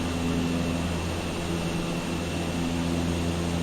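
A small aircraft's engine drones in a constant, even hum inside the cabin while flying at about 9,200 feet along Lake Tanganyika, with no voices over it.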